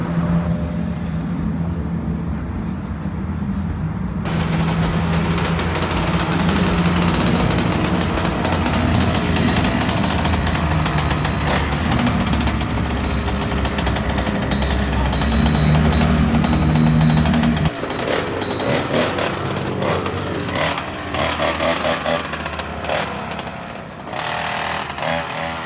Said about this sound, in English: They're rolling the cars out, they're revving them up